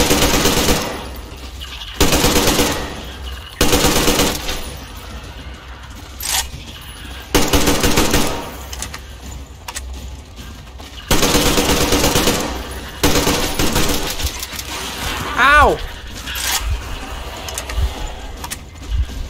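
Video game gunfire during a night horror shootout, with several loud bursts of rapid automatic fire separated by short pauses, up close and dominating the mix, plus a brief rising tone near the end.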